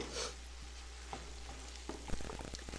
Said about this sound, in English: you're cooking that bacon and onions and celery up, do make sure that you keep stirring it and moving it around a little bit